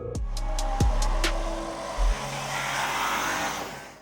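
A Porsche Cayenne GTS with a 500-horsepower V8 drives along, the engine holding a steady low drone with a pitch sweep and a few brief rev swells, heard continuously from inside or close by without talk.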